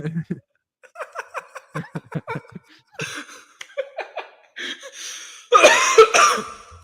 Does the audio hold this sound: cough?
yes